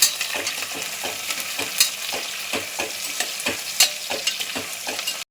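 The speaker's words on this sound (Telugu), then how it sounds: "ఆనియన్స్ ఇలా కట్ చేసుకొని ఇవి కూడా యాడ్ చేసుకోండి. ఇప్పుడు ఆనియన్స్ అనేది బాగా మగ్గాలి." Sliced onions sizzling in hot oil in a pan while cooking katte pongali, with a spoon scraping and stirring in a steady rhythm, close and fairly loud, with no talking.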